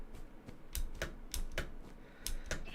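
Quiet clicking computer keyboard keystrokes in irregular bursts, a few sharp taps spaced apart, close but faint.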